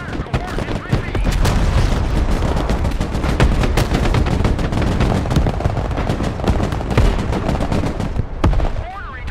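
Heavy artillery fire in the Broken Arrow war game: a dense, loud barrage of overlapping booms and sharp blasts, continuous for the whole stretch with no pauses.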